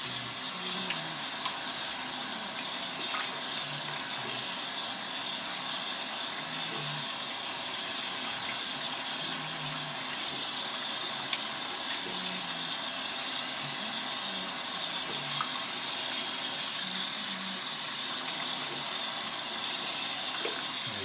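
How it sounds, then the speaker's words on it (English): Warm water runs steadily from a tap while hands are washed beneath it, a constant close splashing stream with small irregular spatters as fingers and nails are rinsed, no voices over it. "Nice warm water, get underneath our nails, in between fingers."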